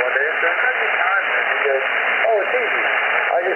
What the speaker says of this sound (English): you're probably going to see the noise floor start to go up and start hearing the static